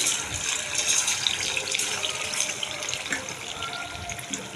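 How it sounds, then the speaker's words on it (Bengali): Marinated chicken fries a little at a time in hot oil over low heat, giving a continuous hissing sizzle at moderate loudness with no voices. "এবার আমি চিকেনটা তেলের মধ্যে দিয়ে অল্প অল্প করে ভেজে নেব।"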